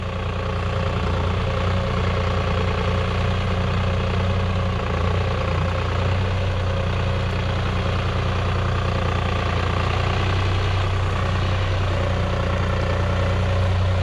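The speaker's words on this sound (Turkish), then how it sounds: "Üst silindirli bir motor var arkadaşlar bunda." A New Holland T580B backhoe loader with an overhead-cylinder engine idles steadily and loudly, a constant low rumble running unbroken throughout with no voices.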